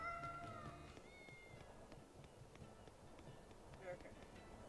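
Cats meow in the Tales of Berseria video game, soft, brief mews and trills that sit low under game background sounds and voices.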